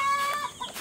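A brooding hen lets out a brief, close cluck with a short raised note, followed by softer low clucks, all within under a second and without any talking.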